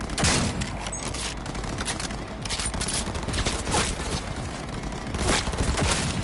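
Sustained gunfire in the video game Cyberpunk 2077 during a firefight, dense overlapping shots and blasts forming a loud continuous roar with no clear gaps.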